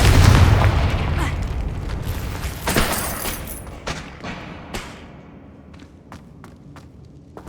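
A Confringo fire-spell blast in Hogwarts Legacy goes off as a loud booming burst with a low rumble that fades out, followed by a few faint footstep-like taps.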